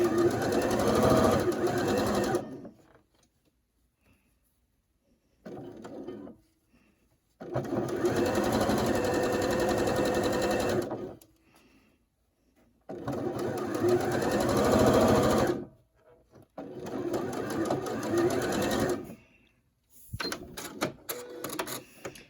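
Sewing machine stitching a curved seam on a colorblock quilt block, loud close whirring in bursts of a few seconds separated by quiet gaps as the fabric is shifted, with a brief short burst between the longer runs.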